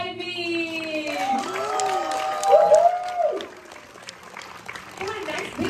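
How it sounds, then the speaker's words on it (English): An audience applauds at a school musical, a steady wash of clapping and some cheering running beneath a voice talking and ringing musical tones in a hall. "Come on, nice big round of applause."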